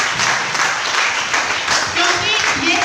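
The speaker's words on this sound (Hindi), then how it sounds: "तो एक बार उनके लिए भी तालियां होनी चाहिए।" An audience at a seminar bursts into steady clapping that continues throughout, mixed with a voice heard over it.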